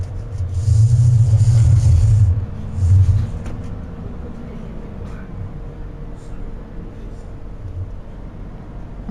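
Tractor engine in Farming Simulator 25, towing and dropping a trailer on grass; it roars loudly at first, surges again briefly, then settles to a steady low rumble while the driver eases the accelerator.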